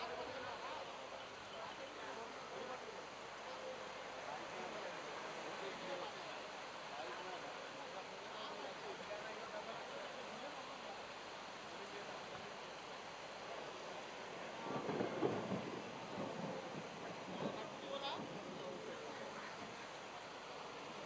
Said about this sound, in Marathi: असा मुसळधार पाऊस पहिल्यांदाच आज मात्र बरसतोय